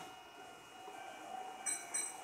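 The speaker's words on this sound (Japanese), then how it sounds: "1番線から電車が発車します。" Meitetsu 1800 series train departing Shin-Unuma station, a steady rolling rumble with faint wheel squeal and brief high whining tones near the end, heard alone without talk.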